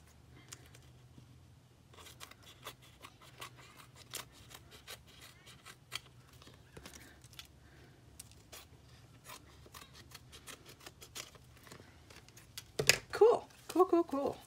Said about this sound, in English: cut off all the excess.